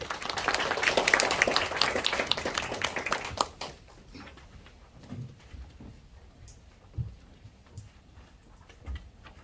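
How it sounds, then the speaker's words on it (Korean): Audience applause at a Korean housing welfare conference, welcoming a foundation chair to the podium; dense clapping fills the first few seconds, then fades to scattered faint claps and room noise. "박수로 맞아주시기 바랍니다"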